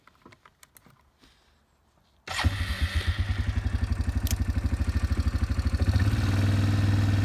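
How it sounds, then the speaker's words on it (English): A four-wheeler engine starts up and runs with a steady, rapid pulsing putter, close and loud, its revs rising slightly near the end after a few faint clicks and knocks beforehand. "So we're gonna hop back on the four-wheeler here,"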